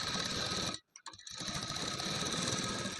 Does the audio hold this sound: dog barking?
no